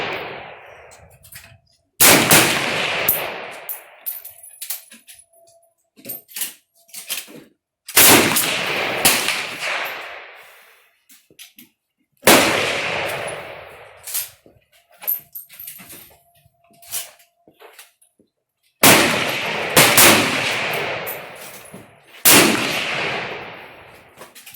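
Rifle shots from competitors at an NRA Bullseye match range, loud sharp reports with long reverberant decay, coming singly and in pairs at irregular intervals, with quieter clinks and background sounds in between.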